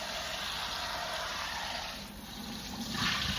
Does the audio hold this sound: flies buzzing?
no